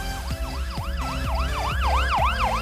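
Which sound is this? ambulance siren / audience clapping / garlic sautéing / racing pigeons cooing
ambulance siren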